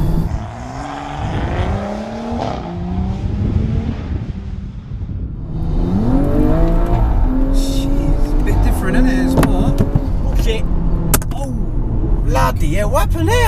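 Tuned 560 bhp BMW M135i hatchback accelerating hard, engine note climbing and dropping through several quick gear changes, loud and close from inside the car, with occupants talking over it.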